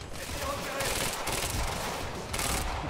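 Rapid gunfire in the Quantum Break video game, a dense continuous burst of automatic shots with a few louder surges, heard at moderate level alongside a voice.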